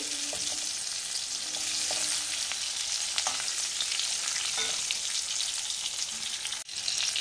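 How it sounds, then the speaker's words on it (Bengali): Potatoes sizzle steadily in a pan after duck eggs were fried in it, a dense, close crackle running throughout with faint stirring scrapes and a brief dip near the end. "তো আলুগুলো এখনো ভাজা চলছে"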